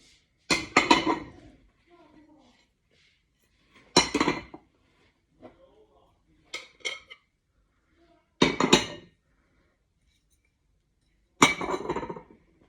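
Several separate bursts of ceramic clinking as plates are set down and knocked together, spaced a few seconds apart with quiet between them.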